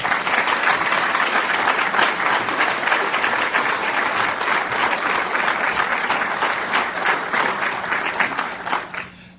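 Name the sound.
audience applause welcoming speaker Mark Steyn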